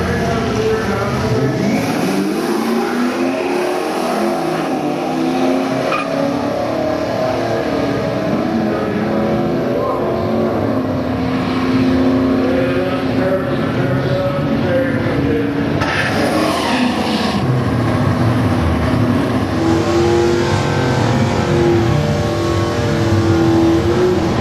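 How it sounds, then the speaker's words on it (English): Camaro at Great Lakes Dragaway, a loud continuous engine roar that rises and falls as it revs and pulls away at a drag strip, with faint talk around it. "looks like we got a Camaro in the right lane. He's getting ready to go."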